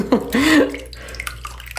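A vintage 1960 ponytail Barbie doll is swished in water, with close splashes and dripping sloshes at the start and then scattered small drips, while a voice murmurs briefly.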